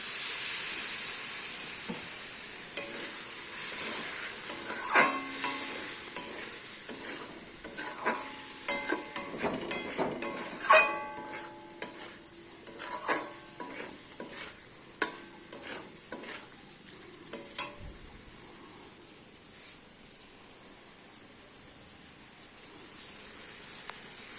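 A spoon stirs potatoes in a hot cooking pan, with a quiet sizzling hiss under a run of irregular scraping and clinking strokes. The strokes bunch in the middle and fade toward the end.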